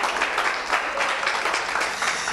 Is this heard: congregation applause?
yes